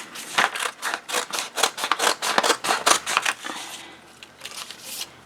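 Scissors snip repeatedly through an old book cover in a quick, steady run of sharp crunchy cuts, then pause and resume with a few lighter snips, close and fairly loud.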